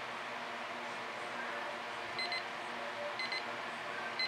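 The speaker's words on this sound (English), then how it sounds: "And when the timer goes off" A timer alarm goes off during an acrylic pour painting session, giving short repeated high beeping bursts at a moderate level over steady background hiss, with no talk.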